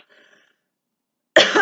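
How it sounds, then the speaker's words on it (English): A woman gives a single sharp, close cough after a faint murmur and a moment of silence. "I'm coughing."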